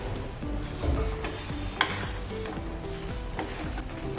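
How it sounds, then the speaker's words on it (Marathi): Paneer tikka masala gravy made with curd and tomato bubbles and sizzles in a pan, a steady close crackle broken by a few sharp pops and spatters. "आता छान उकळी सुद्धा आलेली आहे"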